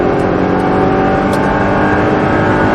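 An Audi R8 race car accelerates hard on the Le Luc circuit track day, its engine roaring loud and continuous at high revs, close and steady throughout, with no talk.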